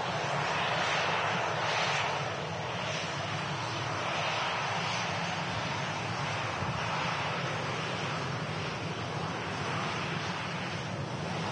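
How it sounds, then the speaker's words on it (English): A TUI Boeing Dreamliner airliner departs Manchester Airport with a broad, steady jet roar that stays loud and constant, rumbling through the whole stretch with a windy, surf-like wash and no talking. "a few awesome departures to come on the channel, including the TUI Dreamliner, which is next out."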